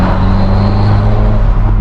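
A BMW 1 Series fitted with an aftermarket turbo modification runs with a steady high whistle over a loud, even engine drone, sustained close up for a couple of seconds.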